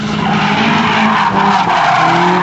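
A classic Datsun Triple S rolls along bumpy back streets in a small town, its engine droning steadily and loud throughout with shifting engine tones and road rumble, no talk.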